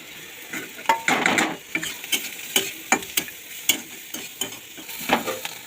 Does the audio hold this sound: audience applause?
no